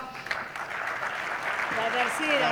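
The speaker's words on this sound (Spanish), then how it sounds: "Vamos, Oliveto, un aplauso." Audience applause at a Spanish-language retail conference in 2019, welcoming speaker Guillermo Oliveto to the stage; a broad, steady wash of clapping with some voices mixed in, building slightly toward the end.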